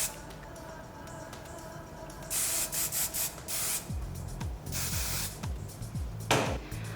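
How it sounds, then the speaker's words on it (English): Several short hissing bursts of Kenra Perfect Medium Spray 13 hairspray sprayed on hair, close by, in quick pulses, with light rubbing and rustling between them. "I'm also going in with the Kenra Perfect Medium Spray 13 to help control some frizz and the flyaways"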